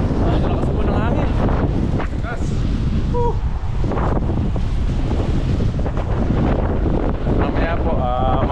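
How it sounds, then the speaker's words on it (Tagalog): Strong gusting typhoon wind blasts the microphone nonstop, a loud rumbling roar, with faint voices mixed in underneath. "Lakas po ng hangin."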